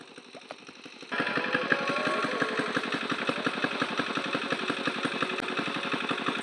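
An engine-driven water pump machine at a flooded riverside fish enclosure roars to life after a quiet moment. It settles into a loud, steady, rapid chugging that holds to the end, with no talking.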